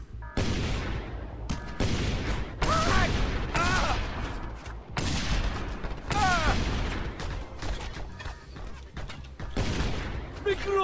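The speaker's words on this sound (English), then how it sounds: "That mounted gun! It's tearing us to shreds!" Heavy automatic fire from a mounted gun in the action game Just Cause 2, in loud repeated bursts with explosions and short gaps, with game voices and shouting mixed in.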